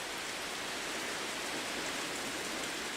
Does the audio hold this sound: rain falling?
yes